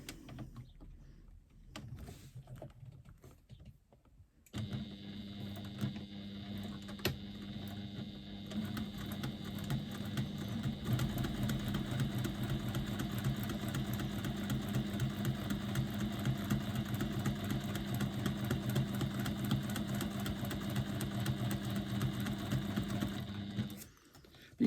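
Sewing machine stitching fabric along a circular seam, starting after a few quiet seconds and then running steadily with a fast, even mechanical rattle for about twenty seconds before stopping abruptly.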